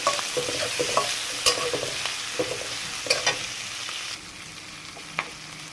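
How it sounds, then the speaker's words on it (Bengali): Onions and chilies frying in a pan, a constant oily hiss broken by repeated spatula scrapes and clinks of stirring, close up and fairly quiet, with no voices. "ঝাল পেঁয়াজ ভেজে নিচ্ছে।"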